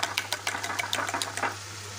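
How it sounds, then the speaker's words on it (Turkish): Eggs are whisked briskly in a bowl, a fast run of light tapping clicks in an even rhythm, close and fairly quiet over a low steady hum, fading toward the end. "Yumurtamızı güzelce çırpıyoruz."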